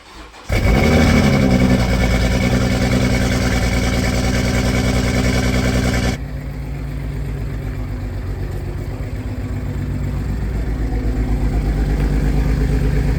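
A badly worn Toyota Supra, likely needing an engine rebuild, cranks and fires on a cold start, then settles into a loud, steady idle that drops in pitch and level midway.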